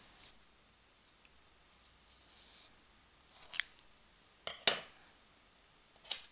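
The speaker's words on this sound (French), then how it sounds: "Alors il me faut mon ciseau." Scissors snipping the loose ends of knitting yarn, a few quiet crisp clicks spread across a hushed room, with one sharper double cut near the middle.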